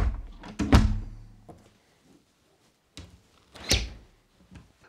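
A garden studio door is pushed shut, giving two close, solid thunks a few seconds apart with quiet in between.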